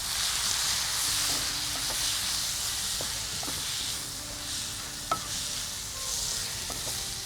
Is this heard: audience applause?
no